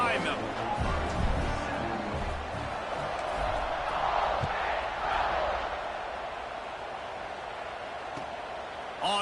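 Football stadium crowd before the kickoff, a broad rising cheer swelling in the middle and easing off, heard beneath a commentator's talk.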